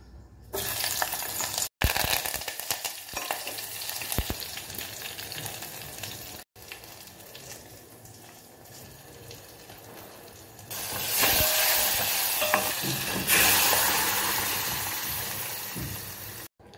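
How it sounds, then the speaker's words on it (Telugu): Tempering spices fry in oil for a dal with greens, a steady sizzle running throughout that grows louder and brighter in the second half, with no talking. "ఇప్పుడు తాలింపులో ఫ్రై చేస్తాను."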